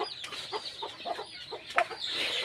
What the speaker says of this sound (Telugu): పొదిగేసిన కోళ్ళు బయటకు పోకోకుండా దీంట్లోనే తిరిగి